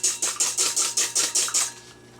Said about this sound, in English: I'm going to start by whisking my